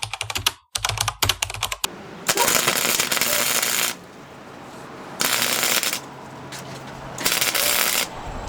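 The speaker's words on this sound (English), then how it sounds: "First time ever welding, never learned, no instructions ever." Welding on a car's full exhaust by a first-time welder: a short burst of crackly clicks, then three separate stretches of loud, harsh, sizzling hiss with quieter pauses between them.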